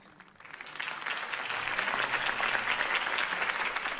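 Crowd applause for Harvey Dent in a Batman Telltale video game, rising quickly from quiet into a steady, dense wash of clapping that holds evenly to the end.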